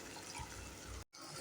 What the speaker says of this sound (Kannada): ಅರ್ಧ ಕಪ್ ಆಗಷ್ಟು ನೀರು ಹಾಕ್ತಾಯಿದ್ದೀನಿ